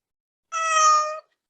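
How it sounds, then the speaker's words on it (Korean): A cat gives a single clear, drawn-out meow, close and loud, with silence before and after. "고양이가 또."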